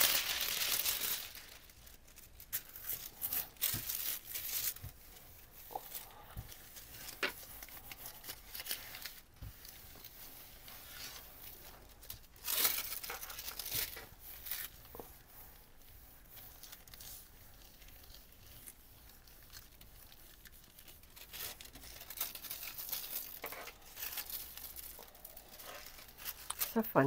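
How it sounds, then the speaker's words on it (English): Deli paper crinkles and tears softly as it is lifted off wet paint while red collage papers are made, giving faint, irregular crackling bursts scattered through the quiet. "And this time I'm going to pick this up with deli paper."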